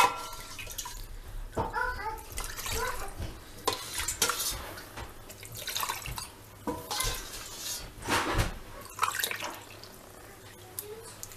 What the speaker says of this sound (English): go ahead and scoop out your salt water